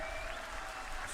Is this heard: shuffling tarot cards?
no